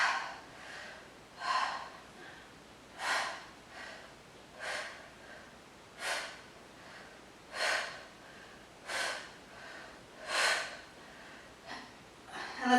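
Slow, steady breathing during a Pilates intervals workout, with soft rhythmic inhales and exhales repeating roughly every one and a half seconds, fairly close and breathy, with no speech over it.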